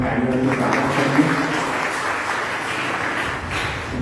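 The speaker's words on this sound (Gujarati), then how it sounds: "એમનું પણ આપણે તાળીઓથી સ્વાગત કરીએ" Audience applause welcoming a guest, an IAS officer, at a Gujarati book-discussion event at a library in Surat: steady clapping from a roomful of people for about four seconds, with a voice briefly audible underneath near the start.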